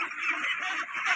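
Ducks in a farm duck pen quack and honk in a loud, continuous overlapping chorus, close by with brief rhythmic pulses.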